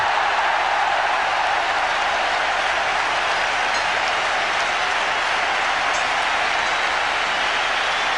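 Packed cricket stadium crowd at the 1996 World Cup roaring and cheering for a batsman near his half-century, a loud, unbroken wall of crowd noise holding steady from start to finish.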